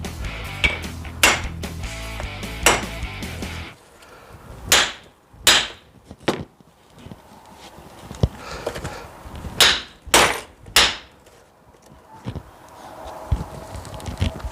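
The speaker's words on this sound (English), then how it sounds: "I really don't want to hit a piece of metal with a hammer" A hammer strikes metal on a GM 8.2-inch 10-bolt axle from a 1969 Buick Skylark, sharp separate blows landing in uneven bursts with quiet gaps between them.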